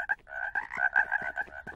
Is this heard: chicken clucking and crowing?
no